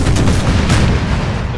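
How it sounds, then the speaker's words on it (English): American Civil War video game cannon fire: a loud, close barrage of booming shots and rumbling blasts overlapping one another across a short burst, with no voices. "Boy, those cannons are really loud,"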